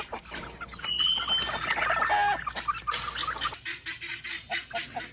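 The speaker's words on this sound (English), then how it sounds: "The guineas are really loud, and so is the rooster." Loud, raucous poultry calls overlap nearby: harsh repeated guinea fowl cackles with a rooster crowing among them, then choppy clucking bursts continue.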